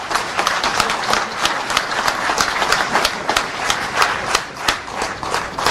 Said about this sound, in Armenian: մի հատ բարձր ծափեր պարոն Ծառուկյանին